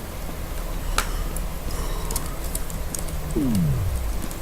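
Sparse chirps and short tweets from birds in the video game F.E.A.R. over a steady ambient bed, followed by a low descending tone near the end.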